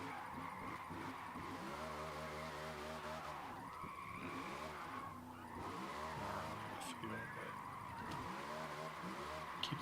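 RTR car drifting in Forza Motorsport, tires squealing and skidding in waves over a revving engine, loud and continuous with no talking.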